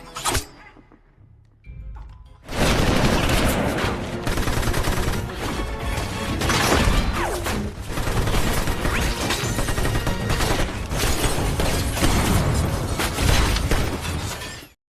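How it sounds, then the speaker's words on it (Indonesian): A gunfight from an Angelina Jolie and Brad Pitt spy film opens with brief quiet sounds, then breaks into dense, loud bursts of gunfire, shattering and impacts that keep going almost without a pause. "Dan baku tembak yang seru pun terjadi."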